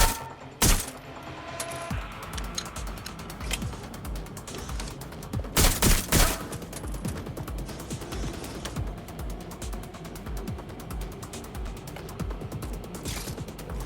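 Gunfire in the video game Watch Dogs Legion, a sharp shot early and a loud cluster of blasts midway, with clicking mechanical rattles and steady game noise between them.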